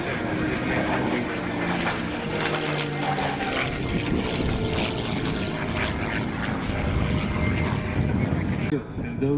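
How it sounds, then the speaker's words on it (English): P-51D Mustang warbird flying past at an airshow in Rochester, New York, its loud propeller engine roaring steadily throughout, with an announcer's voice audible over it. "He brings his P-51 Mustang back to our show center"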